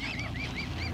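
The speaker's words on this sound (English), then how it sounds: "There's gonna be a video of this duck coming up here and attacking me." Loud repeated honks from swans or a duck at a beach house, about four short nasal calls in a steady rhythm, close to the listener over a constant low background rumble.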